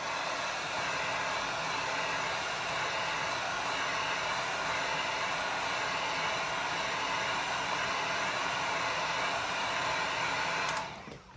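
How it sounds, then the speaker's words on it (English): Heat gun blowing steadily on alcohol inks coating a tumbler, a continuous broadband airy roar at close range that holds for about ten seconds before cutting off abruptly. "I'm gonna go ahead and hit this with a heat gun"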